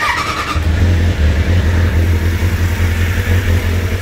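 A 1990s sport bike motorcycle engine starts with a quick crank and then idles and revs loudly up close, a rough, throbbing engine note that fills the whole clip.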